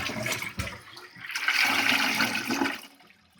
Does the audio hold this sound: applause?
no